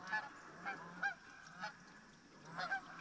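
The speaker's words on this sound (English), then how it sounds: "is the Canadian goose call right there." Canada goose calls, a series of honks repeating in irregular bursts, moderately distant and fairly faint, with a light steady hiss behind them.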